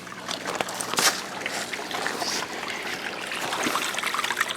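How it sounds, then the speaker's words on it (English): Water trickles and splashes steadily through a greenhouse aquaponics system in winter, a continuous close flow with small irregular sloshing spikes. "See, that water will keep flowing."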